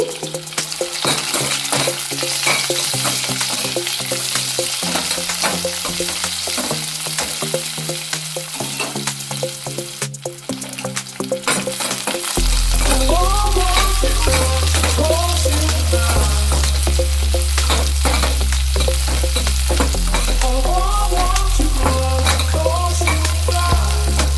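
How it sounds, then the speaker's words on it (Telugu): Chopped onion fries in oil with mustard seeds and cumin, giving a steady sizzle with occasional stirring, largely buried under loud background music throughout. "ఆనియన్ బాగా బ్రౌన్ కలర్ వచ్చే వరకు వేయించుకోవాలి"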